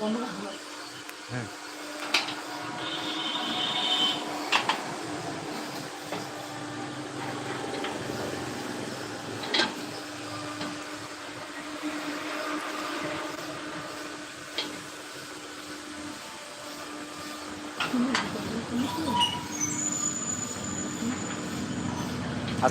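A grain and spice grinding mill for turmeric, chili, wheat, maize and rice powder runs with a steady, buzzing mechanical drone, joined by occasional clanks and a few faint voices in the background.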